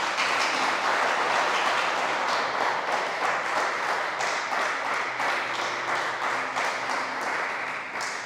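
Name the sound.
church congregation applauding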